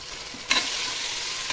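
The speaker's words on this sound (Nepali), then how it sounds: "मैले चाहिँ चलाउँदै चलाउँदै यसलाई चाहिँ त यसरी भुट्दैछु" Chicken pieces with onion and green chilli frying in a pan while being stirred, a steady soft sizzle with one sharp scrape of the spoon partway through, close and alone.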